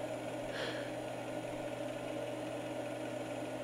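A tractor engine in the video game Farming Simulator 2011 runs at a steady idle, a constant low hum and vibration throughout with no change in pace.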